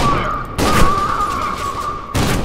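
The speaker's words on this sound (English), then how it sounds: "Automatic shotgun." Bursts of rapid automatic shotgun fire in the F.E.A.R. 2 video game, loud repeated blasts in two clusters separated by a brief ringing tone.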